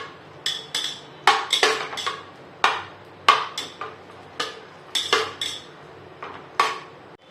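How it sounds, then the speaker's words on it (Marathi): Pav bhaji vegetables sautéed in a large pot for a big batch, a metal ladle striking and scraping the pot in sharp repeated clanks at an uneven rhythm, close and loud over a low background hum. "आपल्याला हे परतवून घ्यायचं"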